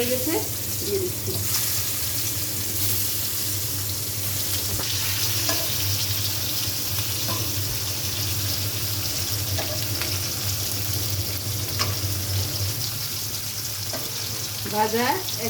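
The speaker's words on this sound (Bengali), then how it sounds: "এবার আমি কাঁকরোলগুলো ভেজে নিই" Slices of pointed gourd (kakrol) frying in hot oil, giving a continuous crackling sizzle with occasional utensil clicks and soft stirring, and a low background hum throughout.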